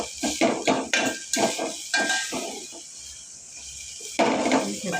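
Peanuts, cumin and garlic sautéing in a pan for spinach bhaji, with steady sizzling and repeated scraping strokes of a spoon against the pan, close and busy, no talk.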